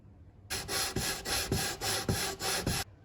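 Rhythmic back-and-forth sanding strokes along the edges of a wooden model boat hull, about eight even rasping passes, close and steady with no talking.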